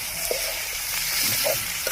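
Boiled goat tripe frying with ginger paste in a pan, a steady close sizzle and hiss with a few soft stirring scrapes over it.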